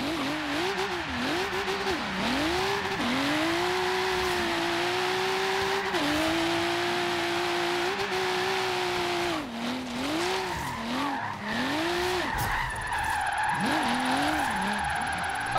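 A Nissan Silvia Spec R Horizon Edition drift build in Forza Horizon 3 screams through a drift, its engine revving up and down in loud wavering sweeps under constant tire squeal, with no one talking.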